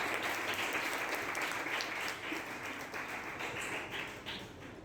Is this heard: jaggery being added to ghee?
no